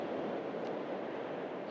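Sea waves wash along the North East Scotland coast in a steady, broad roar, with constant surf noise and a touch of wind, heard alone without any pause.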